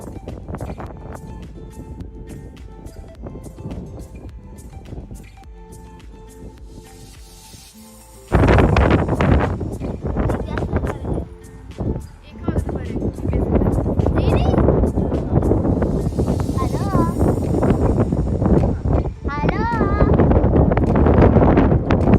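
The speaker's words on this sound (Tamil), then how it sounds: "அந்த காற்றுல வந்து அங்கே நிற்கவே முடியல" Strong wind at Diablo Dam in Washington, starting as a steadier rush and then roaring loud and gusty against the microphone for the rest of the stretch, with voices partly buried beneath it.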